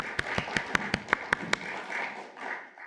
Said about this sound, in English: If you don't mind, clap.